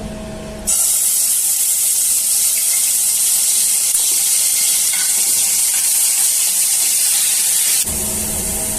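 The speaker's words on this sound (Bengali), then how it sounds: "ঘিটা গরম হয়ে গেছে, দিয়ে দিচ্ছি আমি পেঁয়াজ বাটা।" Onion paste hits hot ghee in a pan and sizzles in a loud, steady hiss that starts abruptly, holds for about seven seconds, then drops back to a quieter background.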